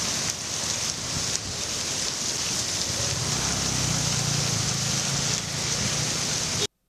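Heavy rain pours down steadily across Chennai during a deep depression, making a dense, even hiss of falling water that stays loud throughout before cutting off abruptly, with no talk.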